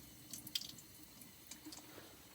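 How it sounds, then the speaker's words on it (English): Water drips from freshly rinsed broccoli sprout seeds, a few faint, scattered drops falling alone in a quiet room. "I'm dripping all over things."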